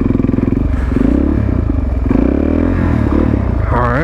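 Suzuki DRZ supermoto motorcycle accelerating in second gear, a loud, close, throbbing single-cylinder engine note that holds steady and then climbs sharply in pitch at the end.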